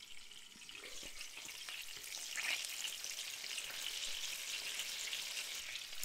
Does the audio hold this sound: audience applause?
no